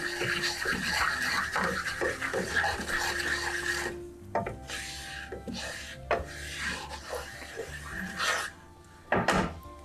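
Flour being stirred into bacon grease in a pan, heard as a close, continuous scraping and rubbing of a utensil against the pan with a few knocks toward the end, no talking.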